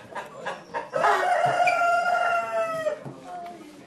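Small ornamental Japanese-breed chickens, a rooster crowing one long drawn-out call after a few short clucks, close and clear, with more clucking at the end.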